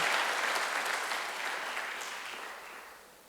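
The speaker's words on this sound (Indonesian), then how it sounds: "tepuk tangan bagi Allah kita" Church congregation applauding during a live sermon, a dense wash of many hands clapping at once, loud at the start and gradually fading over a few seconds.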